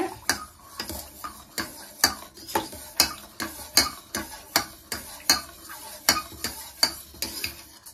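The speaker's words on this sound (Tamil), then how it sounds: "தேங்காய் பால் ஆட் பண்ணுறேன். ஸோ இது வந்து நல்லா மிக்ஸ் பண்ணி விடுங்க" Coconut milk is mixed for Pesaha paal, a spoon clinking against the vessel in a brisk, regular rhythm of about two strokes per second, close and clear with no talking.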